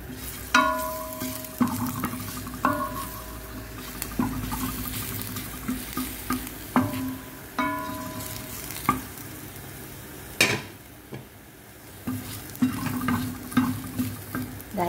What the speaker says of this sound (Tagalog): Lagay na po natin ang ating garlic. I-brown lang po natin to.